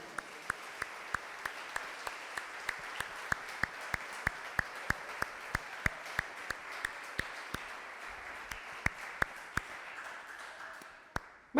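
Church congregation clapping during a Sunday communion service, a moderate round of applause with distinct individual claps over a soft wash, holding steady then tapering and fading near the end with a final loud clap.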